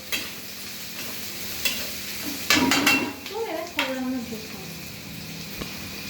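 Thinly sliced onions hit very hot oil in a kadai, giving a crackling sizzle with sharp utensil clanks and stirring, and a voice briefly speaks over the frying.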